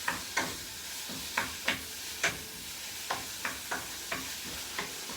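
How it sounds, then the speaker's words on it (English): Ground pork browning in a pan for lobster sauce, with a steady soft sizzle and a dozen sharp scraping, clacking spatula strokes at irregular intervals, close and moderately loud. "we're letting the meat get all brown"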